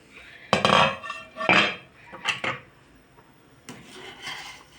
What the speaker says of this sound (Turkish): Şöyle karıştırıyorum kevgirle